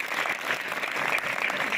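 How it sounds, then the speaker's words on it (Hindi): Students at a school event in Chhatarpur break into loud, dense applause, many hands clapping together in a steady burst with no voices over it. "तो एक बार अपने लिए जोरदार ताली बजाओ पहले तो।"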